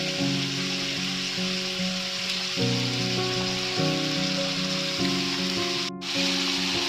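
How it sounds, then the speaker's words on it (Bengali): Chicken pieces fry with onions in a pan for a Bengali chicken kosha curry, giving a loud, continuous sizzle that stays steady throughout, with tonal background music running underneath. "চিকেনটা পেঁয়াজের সঙ্গে একটু ভেজে নেব"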